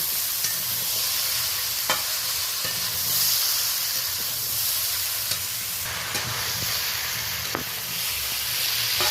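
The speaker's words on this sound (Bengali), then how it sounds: "আদা বাটাটা দেওয়ার পরে আবার 2-3 বার আমি ভালো করে একটু নেড়ে নেব।" Mixed vegetables sizzle and fry with ginger paste in a pan, a steady bright hiss broken by a few soft scrapes of stirring, close up and without talk.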